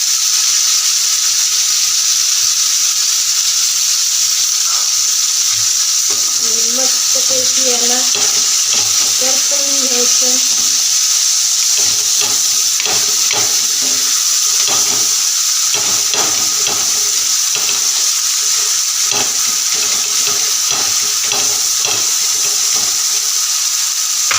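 Eggplant sizzles steadily in hot oil in a pan for bharit, with salt added, while a spoon stirs and scrapes through it in irregular bursts, close and continuous for the whole stretch.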